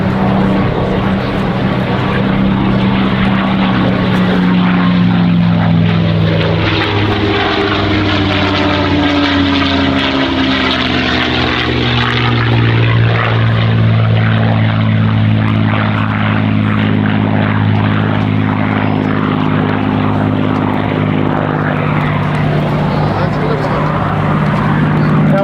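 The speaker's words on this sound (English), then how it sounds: "Bud Anderson said he loved the Mustang." A WWII P-51 Mustang warbird propeller fighter flies past at an airshow, its loud droning engine rising and falling in pitch as it passes, with a voice talking underneath throughout.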